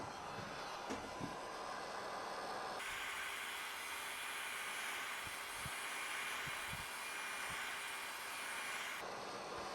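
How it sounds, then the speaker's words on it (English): A heat gun blows hot air over encaustic wax and charcoal, a steady broadband hiss and whir that holds constant through most of the stretch, louder in the middle, with a few faint knocks underneath. "now I'm going to go over this again with the heat gun, and that'll fuse the charcoal into the wax"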